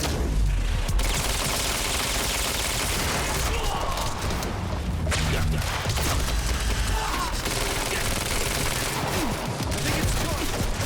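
Sustained gunfire from a shotgun-and-rifle firefight in Quantum Break on PC, a dense, continuous barrage of shots and booms running loud throughout, with a voice briefly calling out amid the shooting.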